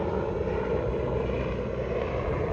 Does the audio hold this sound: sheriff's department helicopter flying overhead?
yes